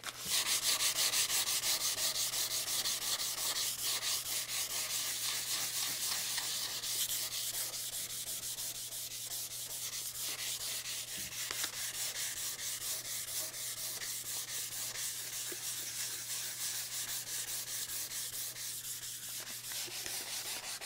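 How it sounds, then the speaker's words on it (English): A rusty table sanded by hand with 220 grit sandpaper, a continuous close, hissing rasp of rapid back-and-forth strokes that runs without pause for the whole stretch, loud at first and then slightly softer, with a low steady hum underneath. "I'm going to go to that 220 grit sandpaper, a little bit more abrasive."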